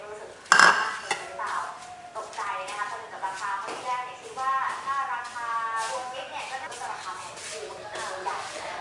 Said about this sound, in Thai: เดี๋ยวก็จะใส่เนื้อหมูลงไปก่อนนะคะ